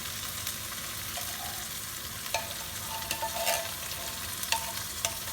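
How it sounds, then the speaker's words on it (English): A steady, close sizzle of Thai curry paste frying in a pan as coconut milk goes in, with occasional soft scrapes and stirring knocks over the continuous hiss. "And so to this I'm going to add my coconut milk"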